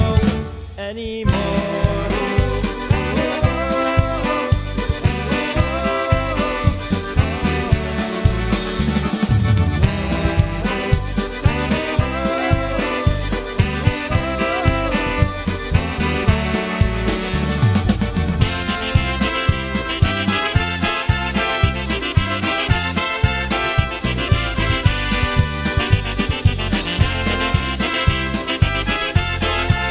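Polka played by a brass band, a loud, full brass ensemble with a bouncing oom-pah rhythm and steady beat throughout, with no talking over it.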